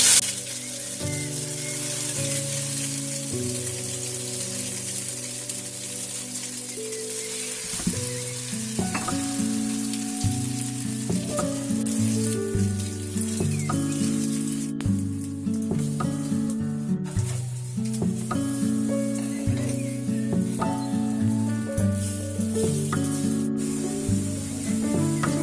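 Three slices of bread soaked in egg and milk frying in a kadai for French toast, a continuous loud sizzle and spatter heard under background music.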